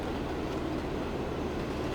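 A high-speed train in the Transport Fever 2 game pulls into a station platform, giving a steady, continuous rolling rumble with a faint rail clatter throughout and no voices.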